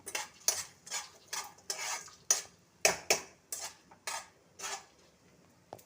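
Keema curry ingredients are fried in a drop of cold-pressed oil in a pan and stirred with a utensil. About a dozen close, rhythmic scraping strokes are heard, and no one speaks.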